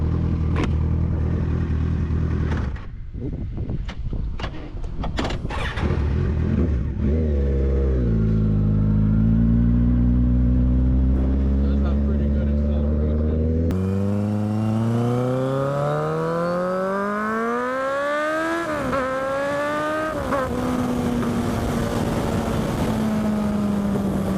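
A 2014 Kawasaki Ninja 1000SX with about 76,000 km revs loudly and close up, its engine pitch rising and falling through several strong sweeps, with no talk over it.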